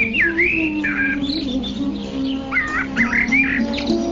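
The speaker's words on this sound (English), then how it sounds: "in the trees, which are maintained in gardens by the demigods, varieties of birds chirp with sweet voices" Several birds chirp and whistle among the trees of a garden, short rising and falling calls coming in bursts close by, with a steady low hum underneath and no talking.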